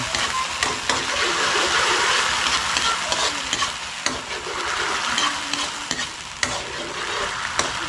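Ingredients sauté in a hot pan with a continuous bright sizzle and frequent clattering stirs, close and fairly loud throughout.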